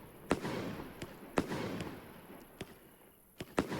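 Firework cake launching in the video game Fireworks Mania, a series of sharp popping launch thumps spaced about a second apart with faint crackle between them, fairly quiet.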